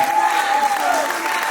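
A birthday party audience claps in a brief continuous burst, dense and close, with a sustained tonal voice or note running through the clapping.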